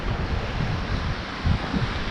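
Light sea wind blows across a microphone on a beach, a steady low rushing hiss with soft gusty thumps, fairly quiet and without voices.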